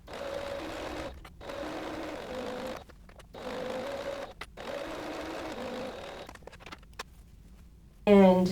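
A sewing machine stitches skirt fabric in several steady runs separated by short pauses, close and clear, ending with a brief burst of speech.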